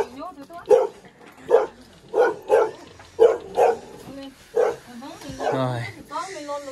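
A dog at a remote mountain house in northwest Vietnam barks repeatedly in loud, evenly spaced woofs. A voice is talking during the barking.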